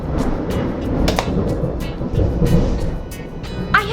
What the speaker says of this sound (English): I said I'm sorry if you hear thunder and then bam, thunder.